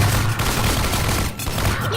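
Heavy gunfire in Half-Life 2, a continuous dense volley of loud, close shots that fills the whole moment without pause.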